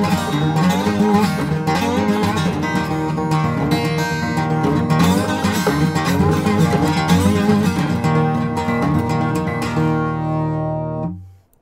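Guitar plays a fast, continuous picking pattern from a song, dense bright notes ringing loud and steady for about ten seconds before being cut off abruptly.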